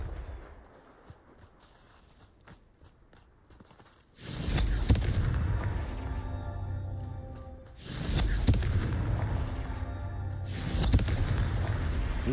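Confringo fire-curse blasts in Hogwarts Legacy erupt as loud, booming explosions, three heavy bursts after a quieter stretch of faint clicks, each rolling on with rumbling debris.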